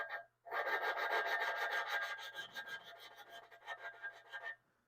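A drill spins a valve against its seat for lapping on a cylinder head, making a steady, close rasping grind with rhythmic pulses. The grinding stops briefly near the start and again at the end.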